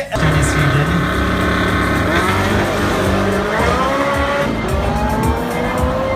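In a drag race, a Porsche and an old car make loud, continuous engine roar, with rising revs and tire noise as the cars accelerate hard close by.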